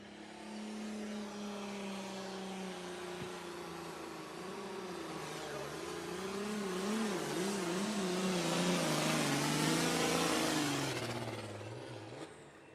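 An International light super stock pulling tractor roars through an outlaw pull run at Wisner, Nebraska, its engine note wavering and surging loud and sustained for the whole stretch, building to a peak before easing off near the end.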